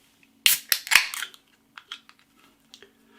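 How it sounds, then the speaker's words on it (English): A 330 ml can of Lervig House Party Session IPA, a Norwegian craft beer, cracked open with a sharp pop and hiss, then a few soft metallic clicks and small knocks, close and alone in a quiet room. "Nice bit of smoke on the can opening"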